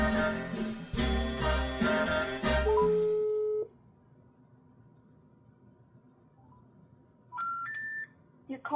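A phone call to the US Windows activation hotline: after a loud opening, a steady telephone line tone sounds, then a rising three-note intercept tone sequence plays near the end.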